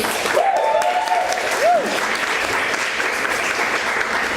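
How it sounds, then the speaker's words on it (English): Steady applause from an open mic audience fills the whole clip, with a brief whistle early on and no one speaking. "Let's hear it for Melissa and her beautiful words."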